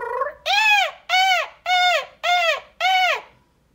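A person vocally imitates a peacock call, giving five loud, rising-and-falling wailing cries in a steady rhythm, close and clear, each lasting about half a second.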